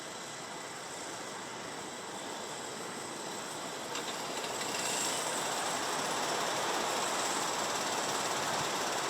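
A pack of senior Rotax racing kart engines drones steadily and then swells louder as they rev harder, a continuous high buzzing roar.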